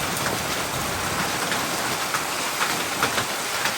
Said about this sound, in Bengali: এই তো পাথর পড়ছে। এই যে পাথর দেখা যাচ্ছে সাদা সাদা হয়ে। সৌদি আরবে পাথর বৃষ্টি হচ্ছে।